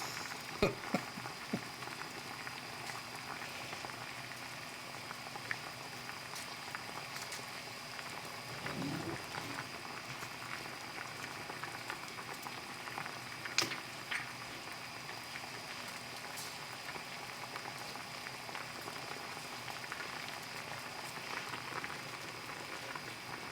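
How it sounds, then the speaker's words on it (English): A pot of French beans boils, giving a steady soft bubbling hiss like light rain with occasional faint pops, and no voices. "So that's them boiling."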